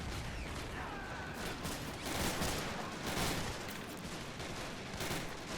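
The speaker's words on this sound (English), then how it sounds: "The Shermans are stopping right outside the town to provide some covering fire" Gunfire in a WWII battle at Foy in Men of War: Assault Squad, with Sherman tanks giving covering fire; dense, continuous crackling volleys and bursts form a steady, mid-distance barrage without any voices.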